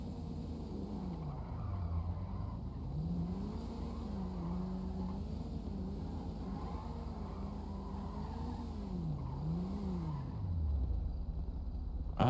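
A car drifting in a demonstration, engine note rising and falling in repeated revs as it slides, fairly faint and steady with no talk.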